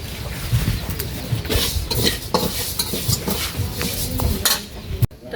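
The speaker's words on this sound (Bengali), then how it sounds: "আর এদিকে হচ্ছে বাদাম বাদাম ভাজবে" Peanuts being dry-roasted in a pan, stirred steadily with a utensil, giving repeated scraping and rattling strokes against the metal along with a faint sizzle throughout.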